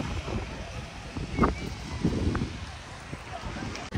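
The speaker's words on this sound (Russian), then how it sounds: "Прохладно. Ветрено." Wind buffets the microphone in a park in Walnut Creek, California, a gusty broadband rush that swells and eases over several seconds, with voices faintly mixed in.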